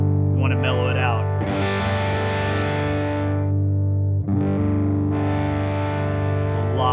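A 2023 Fender Gold Foil Telecaster electric guitar plays loud, sustained chords with a gritty overdriven edge, two long ringing phrases separated by a short pause.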